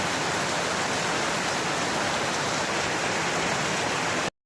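Roar of a waterfall heard from inside the falling water in a West Virginia creek, a dense steady broadband rush, loud and close, cutting off abruptly at the end.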